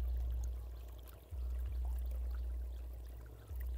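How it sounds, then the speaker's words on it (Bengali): Water gushing from the outlet pipe of a pump driven by a Honda CD Z175 engine, a steady low rushing pour with the engine's drone underneath, continuous and close. "এই পরিমাণ জল আসছে"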